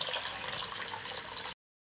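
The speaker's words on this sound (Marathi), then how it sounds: "आणि थोडंसं पाणी टाकायचं।" Water poured into a bowl of lemon-juice mix for pani puri spice water, a steady splashing trickle lasting about a second and a half, then stopping abruptly.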